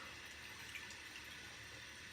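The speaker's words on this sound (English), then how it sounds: "I gotta splash some more water" Water splashes and runs continuously at a sink during a shave. It is soft and steady over the short stretch, with no speech.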